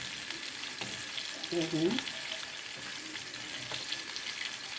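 Crispy chicken, boiled beforehand, frying in oil, a steady close hiss and sizzle with brief bubbling as pieces shift, while a person speaks briefly over it.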